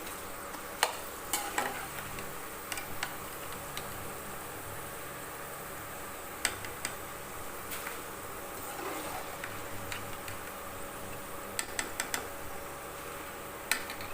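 Cabbage pakoda deep-frying in hot oil, a steady low sizzle with occasional sharp ticks and clinks from stirring, fairly close and alone without talk.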